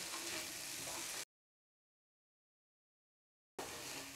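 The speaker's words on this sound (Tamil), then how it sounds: "தேங்காய் திருகல் போட்டு நல்லா கிளறி விடுங்க." Grated coconut stirred into cabbage and peas frying in a pan for poriyal gives a steady, close sizzle. The sizzle cuts out into total silence for about two seconds, then resumes.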